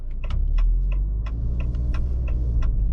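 A Maserati Grecale GT cruises with a low, steady engine drone and road rumble while its ZF 8-speed gearbox shifts smoothly, with faint ticking clicks dotted over the hum and no one talking.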